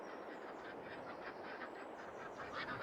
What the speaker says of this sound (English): ducks over here, look.